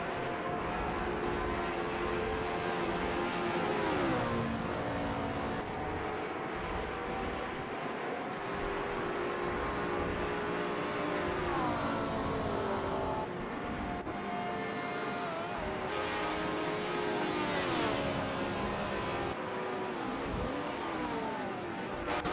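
Race cars in a video game race drone steadily throughout, several engines whining and shifting pitch as they accelerate and pass, loud and continuous with no voices.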